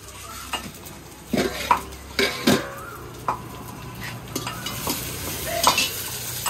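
Onions fry in a pan while being stirred, giving a quiet steady sizzle broken by several sharp scrapes and clinks of a utensil against the pan.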